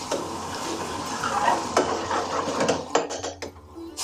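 Curry being gently stirred with a ladle of base gravy in a pan for a restaurant-style 5 spice vindaloo, soft scraping of a utensil against metal over a light sizzle, close and fairly quiet.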